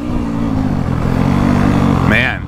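A 2024 Yamaha YZ250F dirt bike engine drones steadily while riding, with a constant low buzz and a brief rising rev near the end, close and loud.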